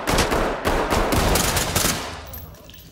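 Rapid automatic gunfire in the tactical shooter Ready or Not, several loud close bursts of shots in quick succession that cut off and leave a fading echo.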